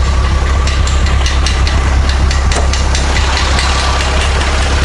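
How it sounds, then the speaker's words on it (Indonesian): A Daihatsu K3-VET 1300 turbo engine, swapped into a 1983 Suzuki Jimny, runs steadily at idle in the open engine bay, a loud, close, continuous rumble with a rhythmic ticking. "Ini sebenarnya mesin Daihatsu YR-V yang turbo"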